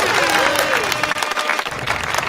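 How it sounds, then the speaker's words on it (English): Applause breaks out for a comedian guest on a live stream, a dense burst of clapping with a voice talking over it throughout. "I'm clapping myself."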